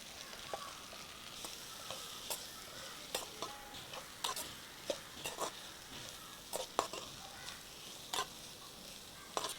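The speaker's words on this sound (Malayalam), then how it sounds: "ഇതിലേക്ക് 2 സവാള അരിഞ്ഞതും 10-15 ചെറിയ ഉള്ളി അരിഞ്ഞതും ചേർത്ത് വഴറ്റാം." Chopped onions and small shallots sautéing in a pan with crushed ginger and garlic, under a soft continuous sizzle broken by regular sharp scrapes and taps of the stirring spoon, close and fairly quiet, with no speech.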